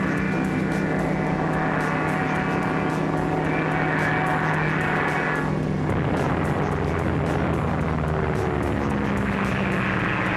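Propeller-driven bomber aircraft engines droning loudly and steadily, a deep sustained roar with a changing pitch as the plane passes, with no voices over it.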